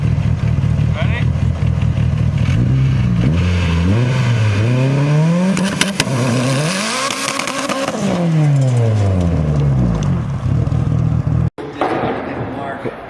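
A Mitsubishi Evo VIII engine revs up and down repeatedly, rising and falling in pitch, loud and close, before cutting off abruptly near the end.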